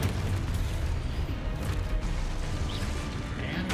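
In Hogwarts Legacy on PS5, Confringo fire spells go off as loud, continuous rumbling booms with crashing bursts layered over one another.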